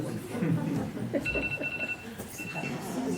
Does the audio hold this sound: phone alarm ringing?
yes